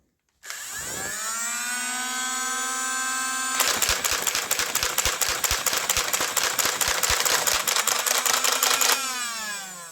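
A Nerf Turbine blaster spins up its motor with a rising whine, then fires full auto in a rapid, even burst of loud clattering shots for about five seconds before the motor winds back down.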